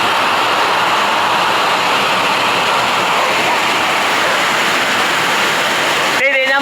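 Floodwater rushing through a flooded house and kitchen during a flood in Cagayan de Oro, a loud, steady, roaring wash of water that fills the whole stretch without letup, with a brief clatter at the very end.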